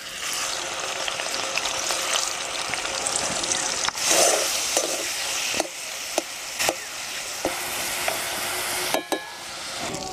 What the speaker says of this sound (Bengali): তেল গরম হয়ে গেছে, এবার চিকেনটা দিয়ে দেব।